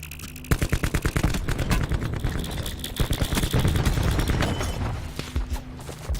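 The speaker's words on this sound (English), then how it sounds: "Where the heck is this guy shooting at me from? Stop shooting at me!" Enemy gunfire in a battle royale video game, with a rapid run of loud, evenly spaced automatic shots followed by more scattered bursts and booms. No one speaks.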